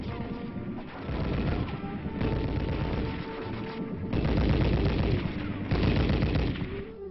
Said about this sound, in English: Theory first with the heavy machine guns, and then practice.